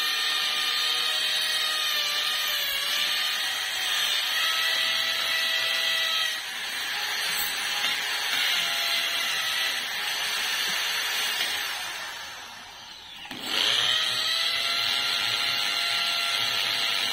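A power drill boring holes to mount solar lights runs as a steady, close, high-pitched whine that dips briefly twice before spinning back up.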